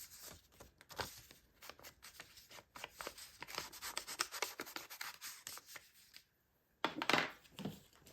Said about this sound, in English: I'm gonna ink around the edges of this.